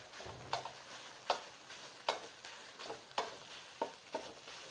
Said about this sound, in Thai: คั่วให้หอมๆก่อน แล้วก็ค่อยๆเติมกะทิไปทีละน้อย